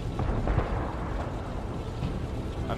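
A World of Tanks artillery shell explodes on impact, a dense low rumbling boom with steady crackling noise throughout, no clear separate blasts.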